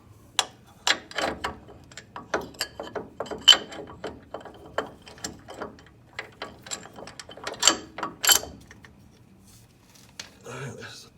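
A ratchet wrench tightens a bolt on a double-adjustable strut on a Camaro F-body car. It makes bursts of sharp clicking in uneven runs close to the mic, with a voice speaking between the strokes.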